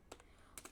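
Typing on a computer keyboard during Python file input/output coding, heard as a few quiet, sparse key clicks in two small clusters, with no talking.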